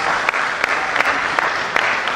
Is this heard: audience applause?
yes